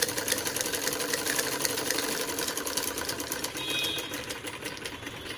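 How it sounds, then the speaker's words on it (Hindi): A sewing machine stitching one side of a skirt lining cut from a saree, a steady fast rattling whir running close and continuous throughout. "स्कर्ट के एक साइड की स्टिचिंग कर लेते हैं अस्तर की"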